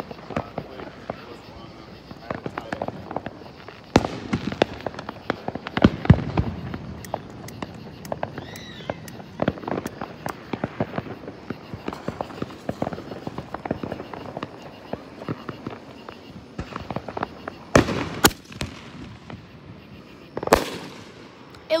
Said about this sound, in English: A lot of dang fireworks.